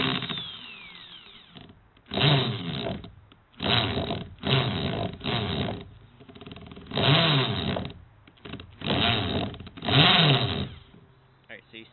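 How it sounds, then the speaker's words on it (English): A power drill boring a hole into an old telephone, running in several separate bursts of a couple of seconds each with short pauses between them, close and moderately loud. "next tool that we need to use is this drill thingy"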